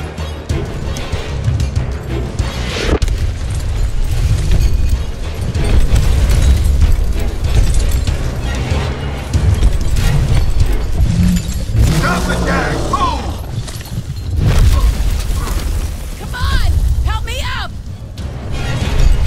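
Artillery barrage in the video game Gears Tactics, a run of heavy booming explosions and rumbling impacts under game music and voices, loud and close.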